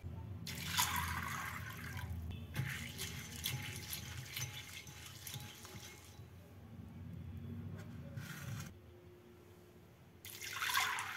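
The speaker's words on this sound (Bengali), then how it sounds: "মেথি শাকটাকে বেছে পরিষ্কার করে ধুয়ে নেব" Fenugreek (methi) leaves are washed in water, with bursts of splashing and trickling in a kitchen, pausing and resuming several times at close, moderate volume.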